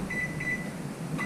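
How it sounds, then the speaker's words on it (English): Steady low hum of a running microwave oven cooking rabbit, with a faint high tone pulsing in the background. "And put it in the microwave for"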